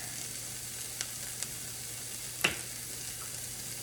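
Frozen garlic cubes dropped into a hot pan of frying onions give a steady soft sizzle with a few faint crackles and one sharper hiss as a cube hits the oil.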